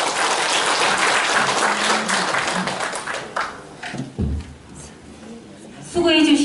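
Audience applause breaks out at a citizens' forum in a Gumi workers' culture center, dense and steady for about three seconds before thinning out, followed by someone speaking over a quieter hall.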